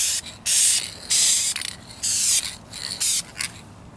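Duplicolor aerosol paint sprayed onto a 2004 Kia Spectra rear bumper, close bursts of loud hissing spray in several short and longer passes with brief pauses between.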